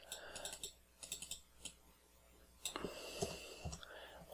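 Typing on a computer keyboard while entering a name during an Ubuntu 22.10 setup, quick light key clicks in two short bursts, near and quiet, with soft whispering or breath underneath.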